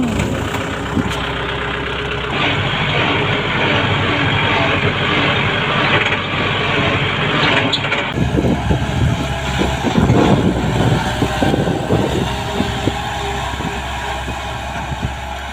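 A farm vehicle engine, started up for dry-field rice sowing, runs at a steady, loud idle close by; its tone shifts noticeably partway through and then keeps churning on, with no talking.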